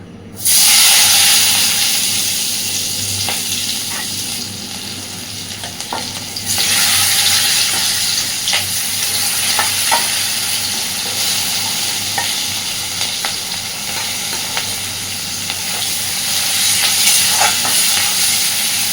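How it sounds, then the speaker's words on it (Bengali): Chopped onion and slit green chillies sizzle loudly in plenty of hot oil in a kadai while cooking a Bengali stingray curry. The frying hisses continuously up close, with occasional scrapes and taps from stirring. "এবার আমি এই তেলের মধ্যে দিয়ে দিচ্ছি পেঁয়াজ কুচি আর চেরা কাঁচা লঙ্কা।"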